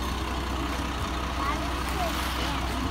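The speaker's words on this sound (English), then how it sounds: "You hear the big truck? It's loud, isn't it?" A concrete mixer truck's engine runs with a loud, steady low rumble close by, unbroken throughout, while people talk over it.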